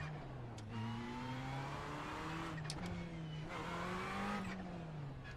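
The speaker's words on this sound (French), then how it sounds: "Oh ce bruit de turbo." Race car in a racing video game revving hard, its engine tone rising and falling with turbo whine over a steady drone, loud and continuous with brief sharp spikes, no talking.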